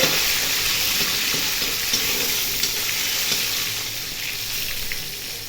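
Coarsely crushed garlic fries in a pan of oil for peanut gongura chutney, a loud, dense, steady sizzle that eases slightly toward the end, with faint occasional stirring clicks and no voices.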